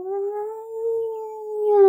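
A single voice imitates wind howling through trees, holding one long, steady, wavering hoo close and loud for about two seconds before it swells slightly at the end.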